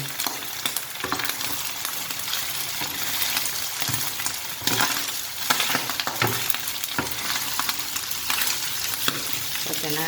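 Fermented pork sausage stir-fried with egg, mild banana peppers and sliced red chilli sizzles steadily in a hot pan, a loud continuous crackle broken by repeated scraping strokes of the spatula, with no talking.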